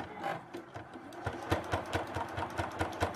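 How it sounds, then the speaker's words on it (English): A sewing machine stitches a half-inch seam around a Christmas stocking, giving a close, steady, fast needle patter with rhythmic pulses and no talking. "I'm just going to go ahead and sew all the way around here."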